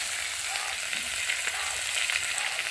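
Ground cumin and ginger paste fries with turmeric and chili powder in oil, giving a continuous close, moderately loud sizzle with faint stirring and no talk.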